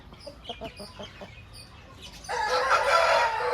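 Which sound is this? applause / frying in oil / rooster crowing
rooster crowing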